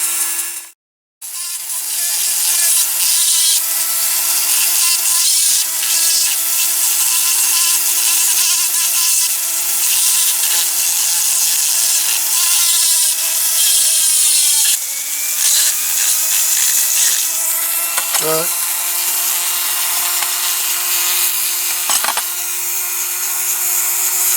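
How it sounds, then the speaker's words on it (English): A power tool whines steadily and loudly at close range as it grinds down a die-cast Dinky toy transporter, running almost continuously after a brief gap near the start, with small shifts in pitch as the load changes. "I'm going to carry on with this and see if I can grind it down"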